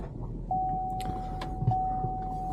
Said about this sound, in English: if I turn the truck on here